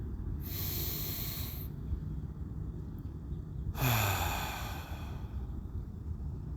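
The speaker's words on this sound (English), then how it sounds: "Breathe in." A deep breath during a guided meditation, a long soft airy inhale followed after a pause by a louder rushing breath, close and alone against a low background hum.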